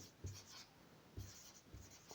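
Pen or marker strokes scratching out a limit equation on a board or page in a calculus lesson, a few short separate scrapes over quiet room tone with no talk.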